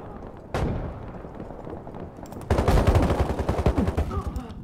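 Gunfire in the video game Ironsights: a single sharp shot, then a dense stretch of rapid automatic bursts, loud and close, crackling in quick succession.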